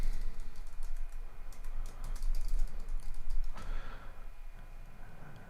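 Fingers tap out a password on a computer keyboard, quick irregular clicks in short bursts at close range, fairly quiet, with no speech over them.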